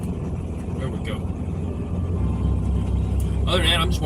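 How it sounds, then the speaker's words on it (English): Road traffic passing by, heard as a continuous low rumble of vehicles that swells slightly in the second half, with a brief higher whine near the end and someone talking over it. "I'm just watching traffic pass by and chilling for a minute"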